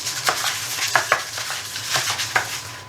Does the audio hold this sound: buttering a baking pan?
yes